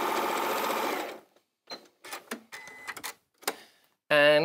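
A sewing machine chain pieces quilt blocks, running in a loud whirring burst at the start, then stopping for light clicks and handling noises, and starting up again with a short stitching run at the end.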